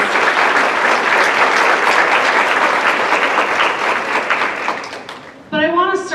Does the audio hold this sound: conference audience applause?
yes